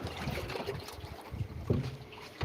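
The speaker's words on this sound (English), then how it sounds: "Just heard it breezing up again." Wind gusts over a houseboat at sea, a steady rushing breeze with soft water lapping and occasional thumps and buffets against the microphone, moderately faint with no talking.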